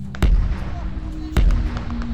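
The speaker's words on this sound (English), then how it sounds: "Is that mortars? Listen. Yeah, they're bringing in mortars." Mortar shells burst in a wartime video game, two deep, booming thuds about a second apart over a steady background rumble, with voices talking in between.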